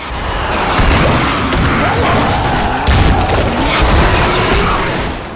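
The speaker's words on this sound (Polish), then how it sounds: "Czy to nie ja spowodowałem wybuch do cholery jasnej" An explosion in the video game Dying Light: The Following fills the scene with a loud, dense roar of crashing debris and rumbling booms that holds for several seconds, with sharper impacts near the start and middle.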